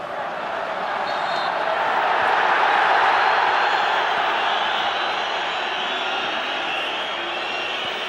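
Stadium crowd at a Czech Republic vs Germany Euro 2008 qualifying football match, a steady, broad roar swelling slightly and easing, with a commentator talking over it.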